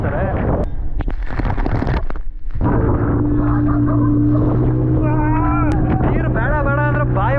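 A speedboat used for parasailing at a Goa beach roars nearby under heavy wind buffeting, the engine droning steadily with shifting tones. Voices come and go over it.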